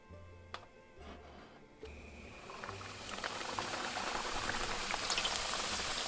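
Hot oil bubbles vigorously before frying Bolivian pastel de queso, a cheese-filled fried empanada, with a crackling, fizzing rush that starts faintly and grows louder and denser.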